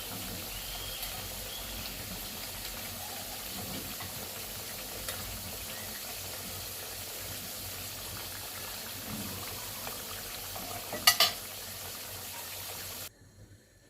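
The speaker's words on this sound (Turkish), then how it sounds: "Evet patateslerim kızardı." Steady, faint sizzling of potatoes frying in hot oil, continuous throughout with a brief sharper crackle near the end, no talking.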